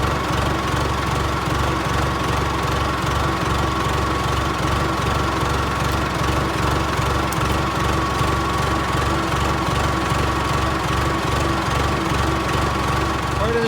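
A Case 580CK backhoe engine idles in neutral, a steady loud low rumble with an even throbbing pulse that continues without change throughout.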